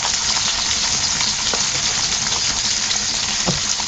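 Boneless milkfish frying in hot oil, a loud, steady sizzle with crackling pops that goes on without a break.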